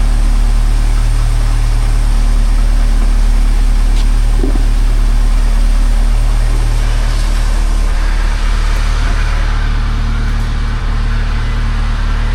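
A Saab 900 engine drones steadily while the car is driven, a loud low rumble with road and cabin noise filling the whole stretch, no voices over it.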